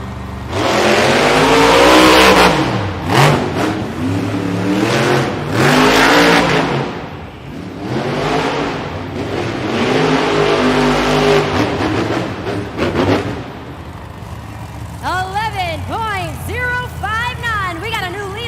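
Grave Digger monster truck engine roaring and revving hard in a Monster Jam freestyle run in Grand Rapids, Michigan, with loud surging bursts and pauses, an announcer talking over it and a crowd rising near the end.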